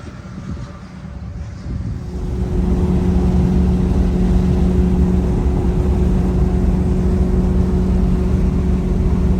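A Porsche 928 cruising on a highway from Arizona to California gives a loud, steady low engine drone under heavy wind and road roar that swells after the first couple of seconds and then holds constant.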